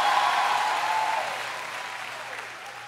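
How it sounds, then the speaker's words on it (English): A church congregation claps together in a sustained burst of applause that gradually fades out, with a faint tonal hum in the background. "Give the Lord God another great hand clap and you can be comfortably seated."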